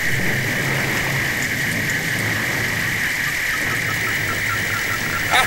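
Heavy rain pours steadily throughout a nighttime storm, a dense, loud, unbroken hiss with a low rumbling undertone and a brief burst at the end.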